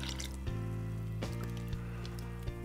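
Water and organic half-and-half poured into a container, a wet liquid stream with a few sharp drips and clinks, close and moderately loud, no talking.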